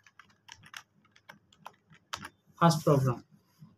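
Fingers tap on a computer keyboard in a series of quick clicks and key presses, close and crisp, followed by a brief bit of speech.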